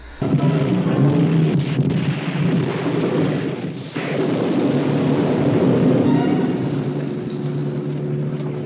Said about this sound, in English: his car explodes, and damn, that's a big explosion